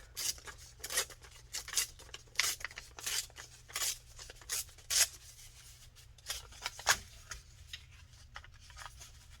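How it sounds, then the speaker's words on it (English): Paper torn by hand for a crafted journal, a series of short crisp rips and rustles at an irregular rhythm, close and fairly quiet, no talk. "And I'm gonna tear it by hand."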